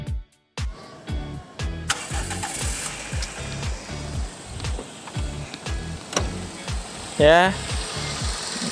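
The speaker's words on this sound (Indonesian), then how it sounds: "ini kondisi mesinnya sudah nyala, bisa dilihat suaranya masih halus ya. Suara start awalnya mirip banget kayak Grid Corolla." A Toyota Soluna's engine cranks in several rhythmic turns, catches, and settles into a smooth, steady idle heard up close, with a person speaking briefly.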